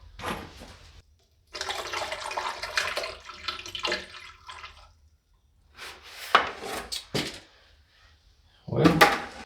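Water draining from a filled hole in bursts of splashing and sloshing with short drips between, close by, separated by quiet pauses.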